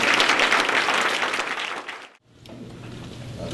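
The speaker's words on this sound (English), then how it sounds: "Let's give him a thunderous round of applause" Loud, thunderous audience applause rises at a retirement ceremony for a doctor, a dense roar of clapping that gradually thins and cuts off, then faint room sound and a softer resumption follow.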